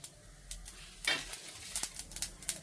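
Lentils fry lightly in a pan with a soft, close sizzle broken by small crackles and a few sharp stirring scrapes against the metal.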